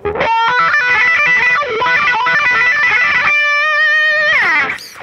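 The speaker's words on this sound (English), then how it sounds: "I'm gonna add distortion and wah pedal." Distorted electric guitar with a sweeping wah tone, fast chords and licks that give way to a long wailing sustained note, loud and up close.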